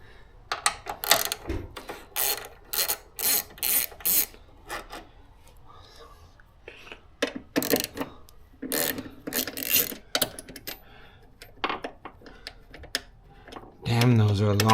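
Ratchet loosening 10 mm bolts on a Mazda 3 turbo's wiper motor, bursts of rapid clicking in repeated strokes with pauses, close up, with someone talking at times between them.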